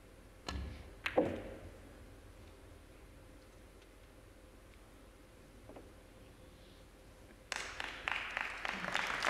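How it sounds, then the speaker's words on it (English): Smattering of applause at a World Pool Masters semi-final, a few isolated claps early on over a quiet hall, then a burst of scattered clapping near the end. "Smattering of applause."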